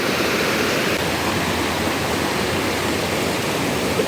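River running strong during the dry season near a tubing spot by rice fields, a dense unbroken rush of water, loud and steady throughout with no voices.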